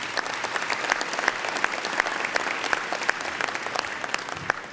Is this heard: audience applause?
yes